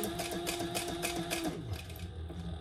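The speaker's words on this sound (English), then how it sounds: "I am back stitching here" A sewing machine back stitching a leather pouch gives a brief whirring run of quick stitches that slows and stops, fairly quiet and close, with no voices.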